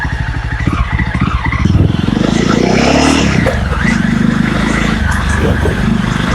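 A Jawa 42 motorcycle's exhaust burbles loudly and steadily as it pulls away in first gear, engine note rising and holding close to the microphone for several seconds.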